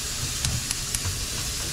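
Meat sears over a very hot fire in a short burst of steady hissing sizzle, with a few brief crackling pops rising above the constant noise, close and fairly loud.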